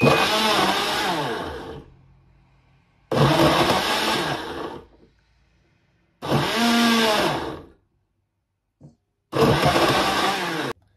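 A blender grinding cassava with water whirs loudly in four separate bursts of roughly two seconds each, the motor straining and grinding, with silent gaps between.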